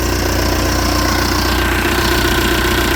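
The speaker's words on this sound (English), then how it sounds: "Well, now the tractor's running." A tractor engine idles steadily and loudly up close, a continuous rumbling drone with a regular knocking pulse throughout.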